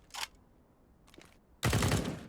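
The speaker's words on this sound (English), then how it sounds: "Nice headshot from Infinite" Gunfire in the video game Counter-Strike: a brief rattle, a short pause, then a loud sustained burst of rapid automatic shots, crisp and close.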